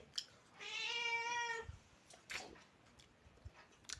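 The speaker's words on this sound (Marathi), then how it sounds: "हा ना मांजरीचा कळप निघलाय बघा खातोय" Cats: one gives a long, clear meow close by, followed by a fainter short mew and quiet rustling in an otherwise calm setting.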